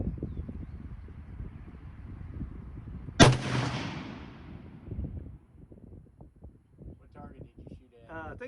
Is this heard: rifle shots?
yes